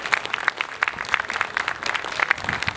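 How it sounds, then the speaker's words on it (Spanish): Applause for a friend at a tribute to the poet Enrique Verástegui at a literary festival, a moderately sized audience clapping steadily in dense, evenly spread claps. "quisiera terminar pidiendo un fuerte aplauso para nuestro amigo"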